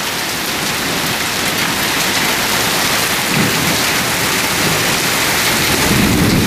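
Extremely heavy rain pours down with big hail in a fierce thunderstorm, a dense, loud, unbroken roar with low rumbles of thunder rolling underneath and no voices.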